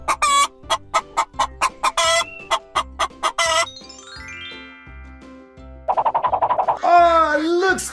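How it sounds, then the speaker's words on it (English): Chickens cluck in a quick run of sharp, evenly spaced calls, close and loud, followed by a rising, drawn-out squawk, all over a light musical backing. "This is how chickens sound."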